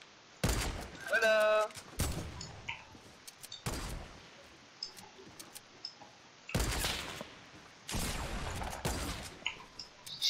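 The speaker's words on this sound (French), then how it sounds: "Je tire en pompe" Pump shotgun blasts in a shooter video game, several loud separate bangs spaced a few seconds apart with quieter clicks and game noise between, alongside speech.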